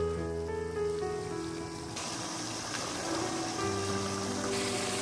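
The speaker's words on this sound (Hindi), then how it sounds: "अब हम इसकी भुनाई करेंगे।" Keema and peas frying in a pan, the water cooked off, give a dense crackling sizzle that swells loudly partway through and continues steadily, with a tonal musical backdrop underneath.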